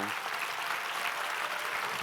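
Audience applause at a special Adobe event celebrating InDesign, a dense, steady wash of many hands clapping with no breaks, filling the room at a moderate level throughout.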